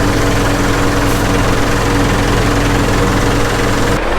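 Farm tractor engine that has sat unused for about two months idling with a heavy, loud, steady low chug and slight knocking, close up throughout.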